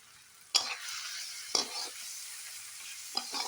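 Spices frying in a pan for egg curry are stirred, giving three sharp scraping strokes over a steady bed of sizzle; the stirs land about a second apart, near and fairly quiet, with no talking.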